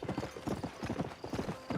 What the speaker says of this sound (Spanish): Está bueno andar a caballo.